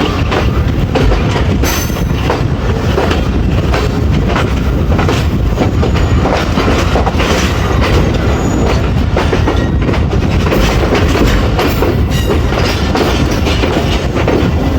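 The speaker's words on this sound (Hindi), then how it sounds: "हमारी 14 डाउन अवाम एक्सप्रेस रावलपिंडी रेलवे स्टेशन पे अप्रोच बना रही है" The 14 Down Awam Express passenger train rumbles loudly and steadily close by as it approaches Rawalpindi station, wheels clattering in a clickety-clack rhythm with occasional squeals of metal on the rails.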